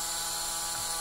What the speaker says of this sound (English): Get you a good drill. Stick it in there and let it go.